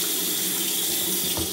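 A bathroom tap runs into a sink for washing a face, a loud, steady hiss of flowing water close by with a brief splash near the end.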